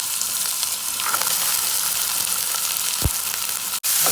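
Garlic, curry leaves and onion frying in a pot of hot oil, a steady, dense sizzle with a sharp crackle and a brief clatter near the end, no voices.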